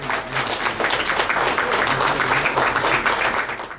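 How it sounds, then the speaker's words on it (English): Applause at an awards gala dinner for a Luo community cultural dance group, a full, sustained round of many people clapping in a hall, steady and fairly loud with faint crowd murmur. "can we give a big round of applause to our Luo Community Dance Group?"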